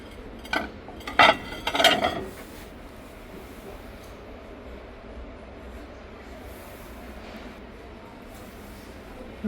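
A few sharp clinks and knocks as heavy ceramic plates are handled in a store early on, followed by a quiet room hush.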